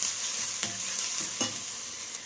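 Onions sautéing in a pan for a hotel-style chalna, a steady close sizzle with a few sharp scrapes of stirring spaced through it, no voices.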